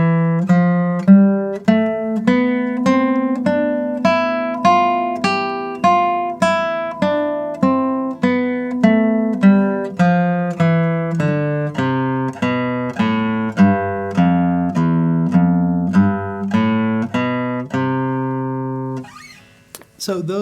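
Acoustic guitar picks out the C form of the CAGED scale with the root on the fifth string, single notes in a steady, even run that climbs and descends, played alone and close.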